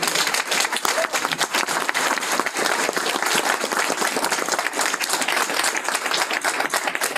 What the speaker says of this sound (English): I think we should probably applaud for 2 more days